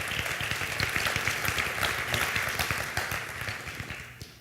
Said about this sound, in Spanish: I'm going to give him a strong round of applause.